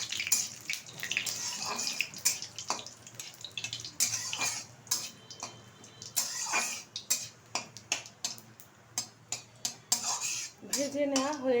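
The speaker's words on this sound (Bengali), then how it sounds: "এখন দিয়ে দেবো দুটো শুকনো লঙ্কা, কিছুটা তেজপাতা, কিছুটা গোটা জিরে আর কিছুটা গোটা গরম মশলা।" Two dry red chillies, bay leaves, whole cumin and whole garam masala fry in hot oil for a Bihari-style mutton dish, giving a steady close sizzle broken by repeated clinks of a spoon stirring against the pan.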